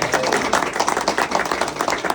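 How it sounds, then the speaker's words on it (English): Audience at a Friday morning chamber networking meeting at a MassMutual office giving a round of applause, with individual claps audible in a brisk, close, steady patter. "So one more round of applause for our host today."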